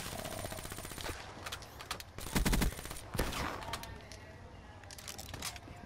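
Video game gunfire in an online shooter, with rapid automatic bursts and a few louder sharp cracks mixed into a busy, muffled background.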